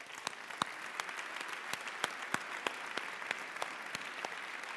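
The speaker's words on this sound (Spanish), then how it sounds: "nos merecemos todas un aplauso" An audience at a political rally in Badalona gives sustained applause, a steady wash of clapping with sharp individual claps popping out. It sounds somewhat distant and moderately quiet.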